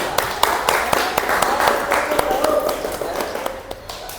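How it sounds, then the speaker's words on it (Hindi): Students in a classroom clap in a quick, uneven patter of hands lasting a few seconds, while a teacher keeps talking over it. "तालियां हो जाए बेटा।"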